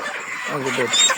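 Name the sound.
chickens clucking in poultry shed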